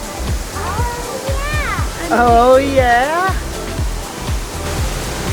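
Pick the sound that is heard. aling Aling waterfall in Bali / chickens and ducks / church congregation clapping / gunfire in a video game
aling Aling waterfall in Bali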